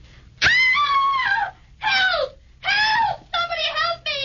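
A woman screams in several loud, high, wavering bursts separated by short pauses, close by and alone.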